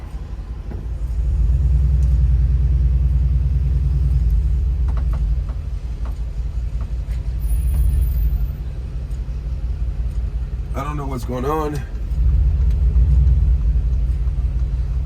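A Mercedes-Benz G-Class AMG idling and creeping through city traffic near a bus detour, a loud steady low engine rumble that swells and eases, with a brief spoken remark partway through.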